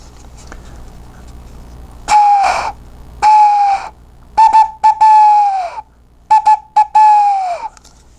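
Several breathy, hooting tones are blown across a bottle mouth through a straw to mimic an owl call, each a steady pitch lasting about half a second, some short, some longer.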